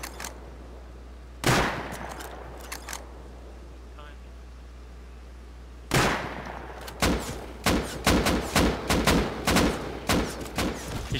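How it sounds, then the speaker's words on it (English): Gunfire in the survival game Rust: a single loud shot, a few scattered follow-ups, then after a pause a sharp report and a quick rhythmic string of close shots over a steady low hum. "He's shooting at me."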